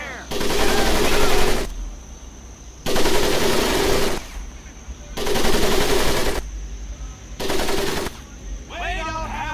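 Video-game machine gun fire sweeps over a Marines mud-pit training course in loud sustained bursts, four long volleys separated by brief pauses, close and dominant.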